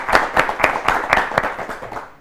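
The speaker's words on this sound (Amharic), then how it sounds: "ለአራታቸውም በደንብ አድርጋችሁ አጨብጭቡላችሁ" Audience applause for four students at an Ethiopian children's television program, six or seven loud, evenly spaced rhythmic claps in unison that fade out at the end.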